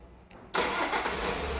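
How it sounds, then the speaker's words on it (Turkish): A Kia Rio's engine cranks and fires up, a short starter whirr followed by a loud, steady running roar, heard close with no talking. "Çalıştırın arabayı."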